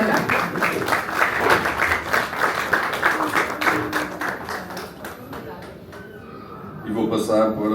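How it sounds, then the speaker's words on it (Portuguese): An audience at a shopping-centre store presentation claps for several seconds, steady and fairly close, then the clapping thins out and scattered knocks and voices follow at the end. "Então batam palmas"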